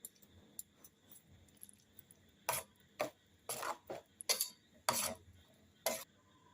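A spoon mixing turmeric, Kashmiri chili powder, salt and sugar into eggs for dim bhapa, making sparse, irregular metallic clinks and taps against a bowl, close and fairly quiet, with near silence between strokes.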